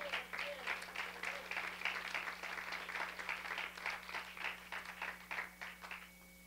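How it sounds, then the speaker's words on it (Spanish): A congregation at a prayer service applauds for the Lord with steady, rhythmic group clapping, fairly faint and distant, over a constant low electrical hum. "Démosle un aplauso al Señor"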